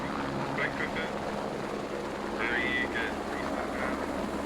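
A helicopter in the Squad video game roars steadily as it drops an infantry squad, a constant rotor drone under two short bursts of radio-like chatter.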